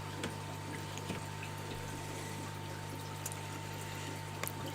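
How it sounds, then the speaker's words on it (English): Water runs steadily in a fish-keeping setup, a quiet continuous broadband wash with a faint constant electrical hum beneath it, no talking. "You can now hear running water."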